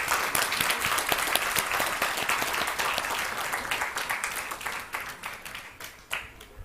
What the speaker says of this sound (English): And let's give a warm applause.